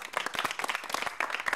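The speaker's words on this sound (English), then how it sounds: "Give the man a round of applause." A small audience claps briefly for a winner during a game of chance, a quick, uneven run of distinct hand claps, fairly faint and close, lasting under two seconds with no voices on top.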